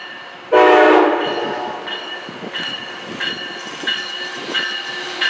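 An Amtrak ACS-64 electric locomotive leading a passenger train sounds a loud, close multi-tone horn blast, then keeps sounding shorter horn notes as the train rumbles past.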